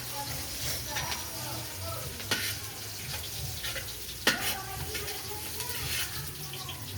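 Chopped onion hits a hot pan alongside garlic and crackles in a steady sizzle while someone talks nearby, with occasional sharper pops and stirring noises.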